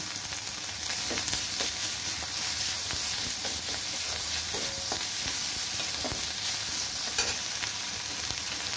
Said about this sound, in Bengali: দিয়ে দেবো আদা বাটা,